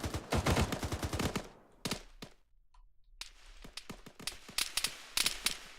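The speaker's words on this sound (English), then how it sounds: "they are under fire from that Humvee" Rapid automatic gunfire from a Humvee in ARMA 3, loud bursts in quick succession, then a brief lull before scattered single shots and further bursts at varying distances, with no voices.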